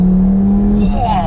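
A 520 bhp Audi 8P RS3 accelerating hard in second gear, its engine note loud and close with a steady droning tone that shifts upward near the end as revs build.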